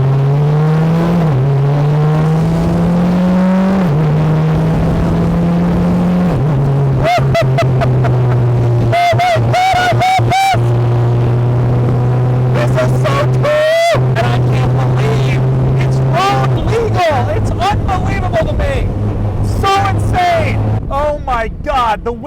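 A BAC Mono street-legal race car engine drones loudly from up close, its pitch stepping through gear changes, with rushing wind and a voice talking over it.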